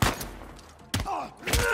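Sniper gunfire in Uncharted 4 cracks out as sharp, loud single shots, three distinct reports with brief gaps between them amid action noise.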